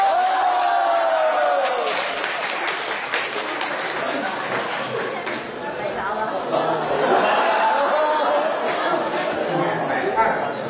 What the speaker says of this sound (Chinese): 谢谢各位的热情掌声